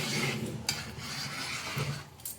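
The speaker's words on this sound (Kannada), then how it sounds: "ನೀವೇ ನೋಡಿ, ಚೆನ್ನಾಗಿ ಕುದೀತಾ ಇದೆ." Mutton biryani liquid boiling in a pot, a close, dense bubbling hiss with a couple of short metallic clanks from the pot or lid.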